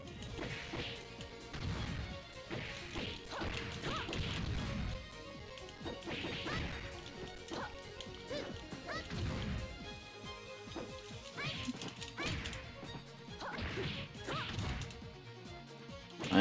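Fighting sound effects from a video game played by button mashing come in rapid bursts of smashes, thwacks and whooshes over a backing track, moderately loud and continuous.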